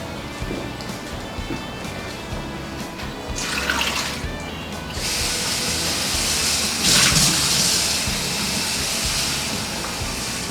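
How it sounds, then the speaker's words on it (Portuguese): Tap water running to change paint-rinse water, a steady loud hiss that grows stronger partway through as the flow increases, with no voices. "Deixa eu trocar essa água."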